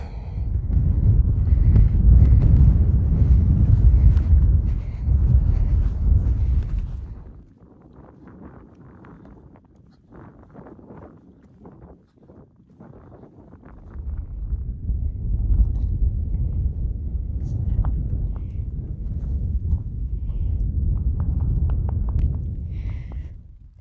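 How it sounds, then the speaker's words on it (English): Strong gusting wind on a mountain top roars loudly against the microphone, dies down briefly to a quieter lull, then surges back as a steady blustery rush. "It's been a blustery afternoon."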